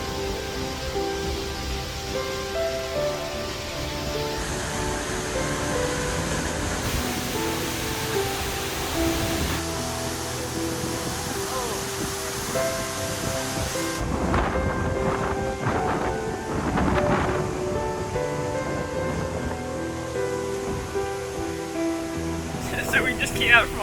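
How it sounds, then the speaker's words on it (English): Seljalandsfoss waterfall in Iceland heard from the path behind the falling water: a heavy, constant roar of water and wind buffeting the microphone, with music layered over it and bursts of louder rushing near the end. "We're now at one of the most famous waterfalls in Iceland, Seljalandsfoss, I think."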